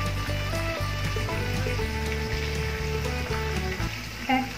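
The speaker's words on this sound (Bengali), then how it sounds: "আর একটু লাল লাল করে ভাজতে হবে" Loitta (Bombay duck) fish frying over low heat in a pan, giving a steady, moderate sizzle with faint scraping, no voices.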